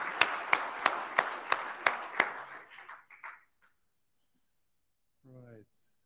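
Audience applause at an IETF hackathon presentation session, a short burst of sharp rhythmic claps from a few hands in a small room that fades out into silence, followed by a brief voice.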